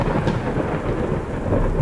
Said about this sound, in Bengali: কোথায় যেন করাত করাত করে বাজ পড়ছে